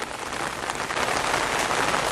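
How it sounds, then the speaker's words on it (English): Steady, dense rain falls in Parque del Este, a public park in Sabanilla, San José, Costa Rica. The hiss is close and even throughout, with no voices. "This is Parque del Este, and it started to rain."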